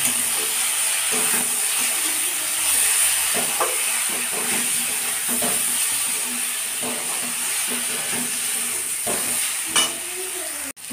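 Spices and oil sizzle steadily in a hot pan for an egg dish seasoned with chili, coriander, cumin, salt and turmeric, a continuous frying hiss with occasional stirring clatter and no talking.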